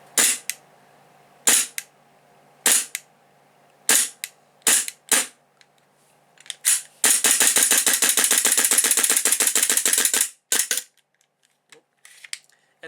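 Tokyo Marui M&P airsoft gas pistol fitted with a heavy steel slide, firing sharp, loud cracks: single shots spaced apart, then a rapid string of about twenty quick shots, followed by a few more single pops.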